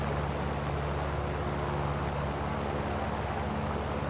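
A Russian rank 1 I-103 fighter plane in War Thunder drones with a steady, loud, unbroken engine roar that holds an even pitch throughout, with no talk over it.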